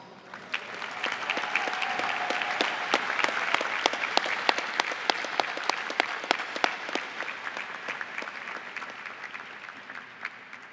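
Crowd applause at the 2018 Heinz College CMU diploma ceremony: a full, continuous round of clapping with crisp individual claps standing out near the front, swelling early and fading slightly toward the end.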